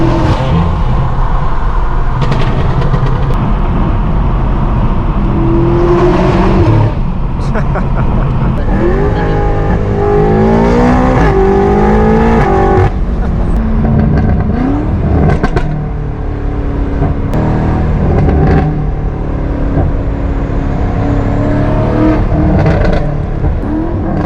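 A 1000-horsepower BMW M8 Competition engine revs and climbs through gears several times, rising pitch then dropping, loud and close, with voices talking over it.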